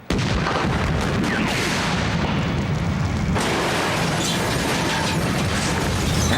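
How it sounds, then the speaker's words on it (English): Cable car explosion set off for a film stunt on a cleared street, heard as a loud sustained blast and roaring rumble with crackling debris that drops off sharply midway and then continues as a lower burning roar. "After successfully completing the cable car explosion"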